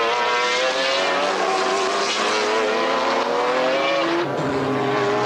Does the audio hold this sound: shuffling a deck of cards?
no